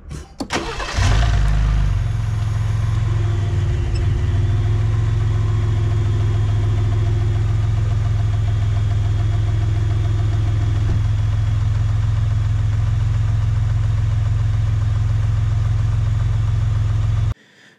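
A Ford Raptor pickup truck engine cranks and catches, then settles into a steady, loud low rumble of idling that runs on evenly until it cuts off at the end.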